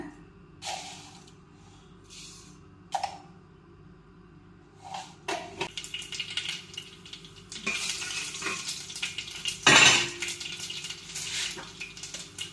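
Scattered pops and crackles of mustard seeds spluttering in hot coconut oil, sparse at first then denser, with a louder burst near the end.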